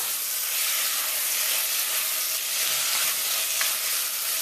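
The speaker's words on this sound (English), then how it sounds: "start adding that seasoned shrimp to the pot" Seasoned shrimp sizzling steadily in a hot pot while being stirred for a curry with butternut squash, a continuous close hiss and crackle with occasional faint stirring clinks and no voices.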